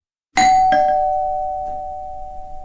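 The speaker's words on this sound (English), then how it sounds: "The front doorbell pealed," A front doorbell chimes twice, a bright ding followed by a second tone, the ring lingering and slowly fading out.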